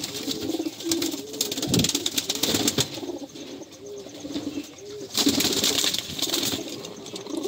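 Domestic female pigeons kept at a home coo repeatedly in soft, low rolling calls, near and moderately loud. A few rustles and faint chirps occur between the coos.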